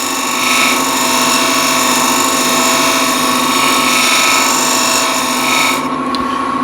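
Woodturning lathe running steadily while a scraper cleans up the inside of a turned piece, a continuous close, loud whirring scrape with a steady hum that eases off near the end.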